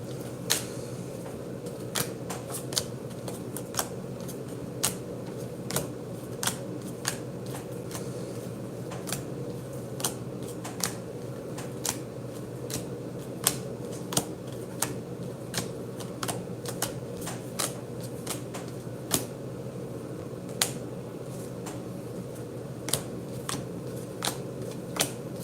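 Pokémon cards riffled and flipped one at a time from thick stacks, a steady run of crisp, close ticks and snaps over a low constant room hum, with no talking.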